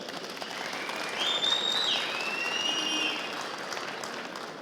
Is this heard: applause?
yes